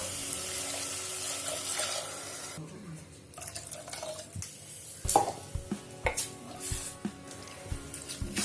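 About one and a half cups of water pour into a pot of basmati rice for mint rice, making a steady splashing rush for a couple of seconds. Scattered clinks and light knocks of the pot follow.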